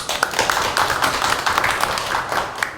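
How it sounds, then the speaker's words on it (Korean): A small audience at a civic bloggers' meeting claps to welcome the Changwon mayor, a brief patter of many hands in a room, fairly close and even, with no talk over it. "다 같이 박수로 환영의 인사를 하도록"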